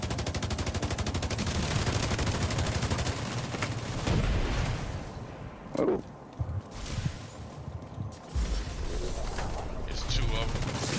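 Turret gunfire in a Dark Zone PvP match of the video game The Division 2, loud rapid bursts of automatic shots that stop and start, with gaps of quieter ambience and voices talking over the fighting.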